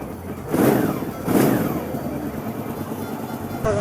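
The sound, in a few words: motorcycle engine running after being started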